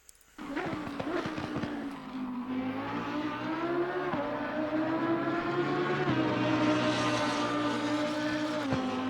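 A Lamborghini Huracan EVO GT race car in Assetto Corsa Competizione at Snetterton Circuit, its engine revving up loudly and holding a high, steady whine through upshifts, with brief dips at gear changes and no talking.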